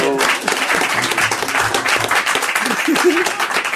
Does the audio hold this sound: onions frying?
no